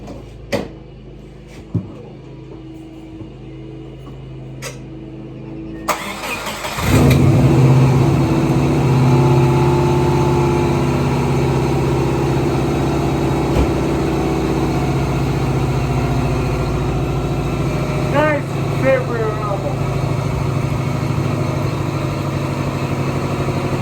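A Subaru car engine cranks after a few quiet knocks and clicks, catches, and settles into a steady, loud idle that runs on evenly to the end.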